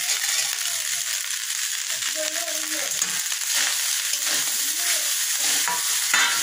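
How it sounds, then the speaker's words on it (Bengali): Fried peanuts are stirred into leftover rice frying with potato and cauliflower, producing a loud, steady, close sizzle with scraping from the stirring and a few faint tonal squeaks in the background. "এবার আমি বাদামগুলো দিয়ে দেবো, বাদাম ভাজাগুলো।"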